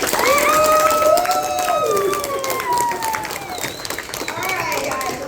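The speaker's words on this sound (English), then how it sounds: "So, round of applause for Mr." An audience applauds a presenter at a class presentation, the clapping steady and fairly loud, with excited children's voices and cheers riding over it throughout.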